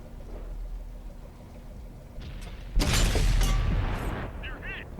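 A tank cannon fires in World of Tanks, a deep, heavy boom erupting close after a low engine hum and rolling out into a rumbling decay.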